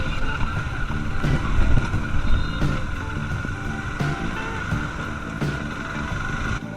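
A KTM 390 Duke with its stock exhaust drones steadily while being ridden, a continuous buzzy engine note with a constant hum, mixed with road and wind rush.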